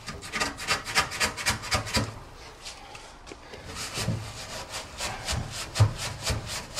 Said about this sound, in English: Use the blade and use the stainless steel ball just to get the corners